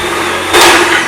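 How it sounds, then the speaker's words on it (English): A kitchen blender whirs as it blends ginger and water, a loud steady motor drone that surges even louder about halfway through. "I'm just gonna blend this up"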